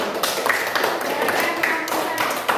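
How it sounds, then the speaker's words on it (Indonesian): Classmates clap for a student group during a school lesson, a brisk patter of individual hand claps with sharp taps standing out, close by and fairly loud. "tepuk tangan untuk kelompok 1"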